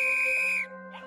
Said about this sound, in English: Can I borrow your whistle?